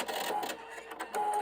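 A sewing machine runs steadily while stitching a button in place, a continuous mechanical whir with faint rhythmic clatter, close and moderately loud, no talking.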